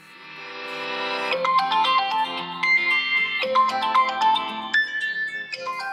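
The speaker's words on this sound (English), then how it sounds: "I'm just gonna play ringtone so it doesn't trigger any of the copyright" A Vivo V60 phone plays its ringtone near the microphone, a bright melodic chime tune with rising notes that swells in and keeps going loud and clear, with no voices over it.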